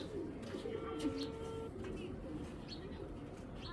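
An almond choco racing pigeon coos with soft, low, rolling calls, close by, over a steady background hum and a few faint chirps from other birds.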